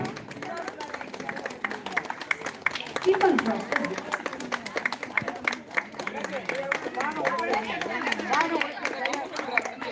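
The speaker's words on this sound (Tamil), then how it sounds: "எல்லோரும் கைதட்டி ஆரவாரம் செய்யுங்கள்" An audience at a Pongal silambam martial-arts performance in Mahilchi Nagar keeps up dense, continuous clapping and cheering, with crowd chatter and voices mixed throughout.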